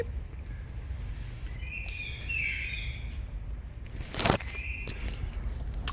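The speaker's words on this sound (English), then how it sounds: "Them's the birds that you always hear screaming in the background." Birds call in the background, with a few high, shrill screeching bursts over a steady low rumble, faint to moderate and with no talking.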